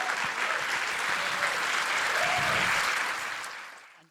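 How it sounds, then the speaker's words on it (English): Audience applause after a startup pitch at a university founders demo day: loud, sustained clapping from a crowd that stays full for several seconds, then tapers off at the end. "another round of applause,"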